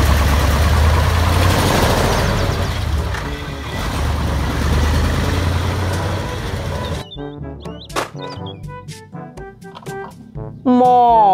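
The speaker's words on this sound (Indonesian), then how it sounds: "Mobil, truk, molen." Engine of a concrete mixer truck, a steady low rumble that runs loud for about seven seconds before giving way to sparse clicks and tonal sounds.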